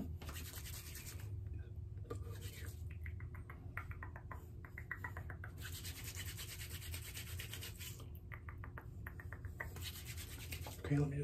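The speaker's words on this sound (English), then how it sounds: "You want me to shave you too?" Close, soft ASMR shaving strokes scrape and rub in bursts, a steady rasping texture over faint background hum with brief quiet gaps.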